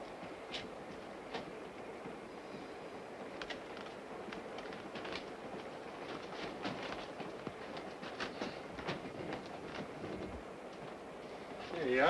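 An old railway car rolls along the rails with a steady rumble and irregular clicking track joints, heard from on board at a constant moderate level while people talk over it.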